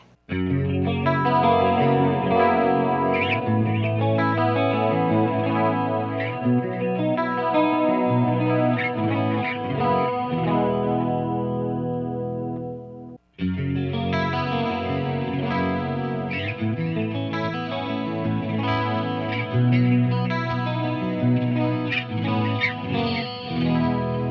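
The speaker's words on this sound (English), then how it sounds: "turn on the flashback and the Julia chorus and see how they compare" Electric guitar through a Peavey 6505 or EVH Iconic amp with Flashback delay and Julia chorus pedals, playing chords and melodic lines with shimmering chorus and trailing echoes, continuous apart from a brief pause midway.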